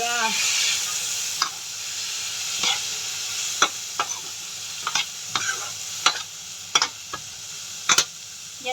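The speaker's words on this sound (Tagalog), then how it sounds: "Luto tayo ng ampalaya with egg." Bitter melon (ampalaya) and egg sizzling and frying in a pan, a steady hiss broken by regular sharp clinks and scrapes of a spatula stirring, close and fairly loud.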